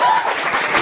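Audience at a festival show applauds, a dense steady wash of clapping for the whole short stretch, loud and close, with no talk over it.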